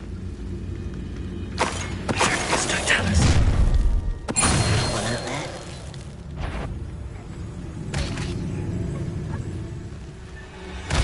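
Incendio fire spell cast in Hogwarts Legacy, a loud whooshing burst of flame with deep booms and crashing impacts, then lingering crackle and a few more sharp hits amid game sounds.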